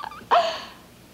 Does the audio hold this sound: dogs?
yes